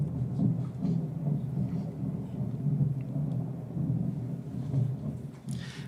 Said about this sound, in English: Let me know if you heard the thunder.